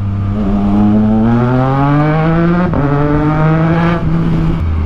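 A Triumph Tiger Sport 660 inline-three motorcycle engine accelerates steadily through the gears, its rising whine swelling in pitch with brief dips at each shift, loud and close throughout with no talk.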